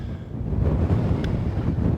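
Steady wind buffets an outdoor microphone while fishing, a continuous low rumbling roar that swells and dips without pause for the whole stretch, with no voices over it.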